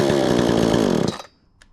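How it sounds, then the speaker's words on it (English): A 22-inch gas-powered chainsaw runs loud and close at a steady high idle, then cuts out abruptly after about a second, leaving near silence with a faint click. "Very nice for a 22-inch gas-powered chainsaw."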